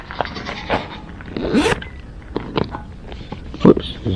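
A zipper is pulled in a few quick rasping strokes, close up, amid rustling and handling noises.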